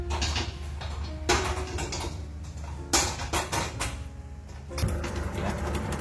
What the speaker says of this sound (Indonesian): lalu kita kocok kurang lebih selama 25 menit ya